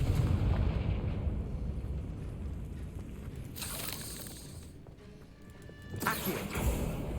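Booming Confringo fire-spell blasts in Hogwarts Legacy, a heavy rumbling burst at the start that fades, then sharper cracking explosions near the middle and end.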